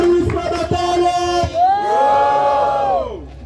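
Crowd at a Brazilian rap battle shouting and cheering loudly, with whoops rising together in a sustained roar over the whole moment; no clear clapping stands out.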